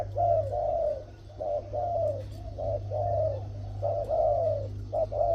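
Tame Thai decoy dove, a three-year-old bird with a middle-to-deep voice, gives repeated rounded coos in short phrases, close and clear over a steady low background hum.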